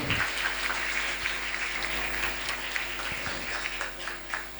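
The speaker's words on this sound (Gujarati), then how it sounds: "જોરદાર તાળીઓથી આપણે વધાવીએ" An audience at a scholarship award ceremony claps for a recipient coming on stage, a dense, steady roll of applause filling the hall.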